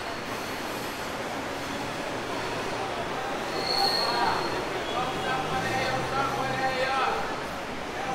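A SuperVia commuter train in Rio de Janeiro rumbling steadily nearby, with faint wheel squeals and metallic clinks over a constant roar, while people talk.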